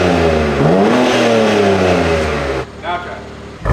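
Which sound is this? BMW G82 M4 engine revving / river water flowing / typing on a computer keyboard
BMW G82 M4 engine revving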